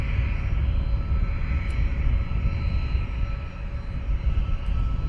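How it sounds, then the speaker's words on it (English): Wizz Air jets taxiing at London Luton Airport produce a steady, loud engine roar with deep low rumble and a constant hum, continuous throughout with no voices. "And we have another Wizzair taxiing down. 2 Wizzairs taxiing down."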